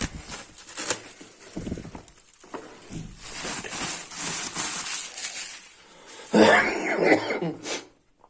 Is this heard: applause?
no